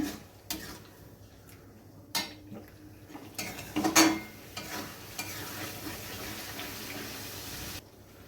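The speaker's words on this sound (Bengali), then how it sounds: "আবারও আমি মশলাটা ভালো করে কষিয়ে নেব।" Meat masala spice powder and chilli powder fry in oil while being stirred, soft sizzling under intermittent scraping and a few clinks of a spoon on the pan, one louder rattling burst midway, close and otherwise fairly quiet.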